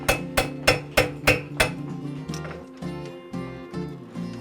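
A hammer strikes a horseshoe on an anvil in a quick run of about six sharp, ringing blows, then several lighter, duller taps follow at a slower pace, close by and with no talking.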